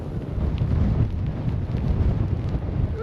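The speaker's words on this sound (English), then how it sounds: "Oh, it's windy," Strong wind gusts buffet the microphone on a snowy ski slope at Alta during ski testing, a low, continuous rumbling roar that swells and eases with no one speaking.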